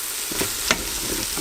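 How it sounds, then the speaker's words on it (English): Ground turmeric, chili powder and star anise frying on low heat in an Instant Pot, a brief close-up sizzle with spoon scrapes and a sharp metallic tap. "Stir this on the less setting for about a minute until the raw taste of the spices go away."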